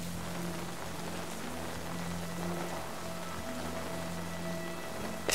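Steady rain falling in Animal Crossing: New Horizons, a dense, even patter that holds at the same level throughout with a faint musical tone underneath, no voices.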